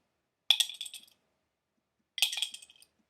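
Two separate clinks as plastic bottle caps drop into a mug, each a sharp hit followed by a brief rattle, spaced well apart with silence between and no voices.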